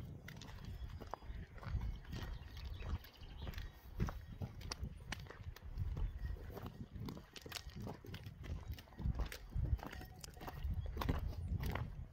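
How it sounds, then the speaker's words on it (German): Free-roaming cows walk along a forest trail on the mountain near the Jenner summit, giving irregular, close hoof clops and shuffling steps over roots and ground at a steady moderate level, with no talking. "jetzt wo ich die Kühe hier schon wieder höre"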